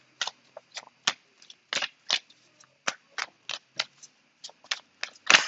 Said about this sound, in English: I'm going to pull more cards to clarify